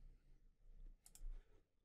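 A computer mouse gives a quick double click, two sharp close ticks in fast succession, against a quiet room during computer design work.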